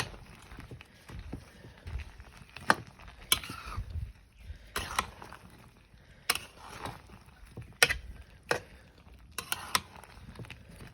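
Spices being stirred and sautéed in a pan for mango pickle with mustard paste and five-spice, giving intermittent scraping and clinking of a spoon against the pot in sharp bursts over a low sizzling background.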